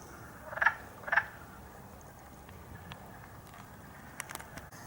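Two short, distinct frog calls ring out near the start, close together and fairly loud, at a pond where wood frogs and leopard frogs are present; faint ticks and rustles follow in a quiet background.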